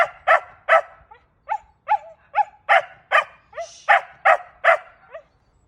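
A dog barks again and again in a quick, steady series of about a dozen sharp barks, close by, some with a whiny edge.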